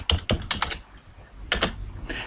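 Keys clack on a computer keyboard while a day name is entered into an Excel spreadsheet cell, in quick clusters of crisp, close clicks separated by short pauses.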